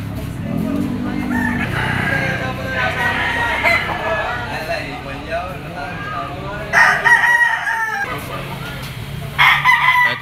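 A yellow-legged lemon sweater bloodline bullstag gamefowl rooster crows repeatedly at close range, its loud calls interspersed with clucking from other fowl amid ongoing voices and background bustle.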